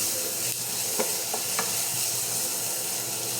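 Onions and ginger sauté in a pan for a Filipino crab-in-coconut-milk dish, just before tomatoes go in, giving a steady close sizzle with a few soft stirring scrapes and no talk.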